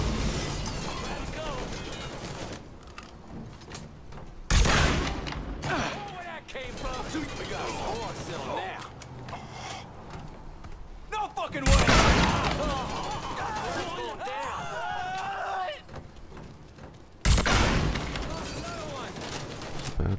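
Gunfire and explosions erupt in the Mafia 3 video game, loud bursts of rapid shooting recurring in several waves, with in-game voices shouting between the volleys.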